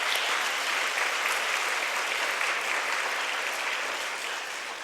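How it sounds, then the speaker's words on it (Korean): A church youth-service congregation in a hall gives warm, dense applause that holds steady for about five seconds before tapering slightly. "우리 격려하는 마음으로 박수 한번 드릴까요?"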